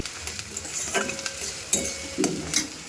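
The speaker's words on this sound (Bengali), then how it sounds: "আমি এদিকে চিকেনের মশলাটা বসিয়েছি" Chicken masala frying in a pan and being stirred, with a constant sizzle broken by scraping spoon strokes and a few sharp clinks of utensil on metal, close and moderately loud.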